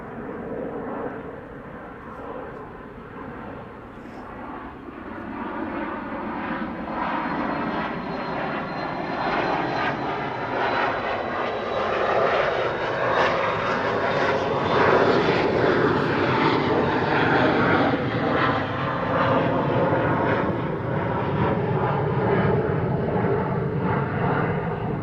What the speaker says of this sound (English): Another sleek biz jet.